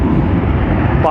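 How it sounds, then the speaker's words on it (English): Airliner landing at Hartsfield-Jackson airport, heard from a distance as a steady, loud broadband engine roar that holds throughout without a break. "That's a nice landing out there on Pi over 2, right?"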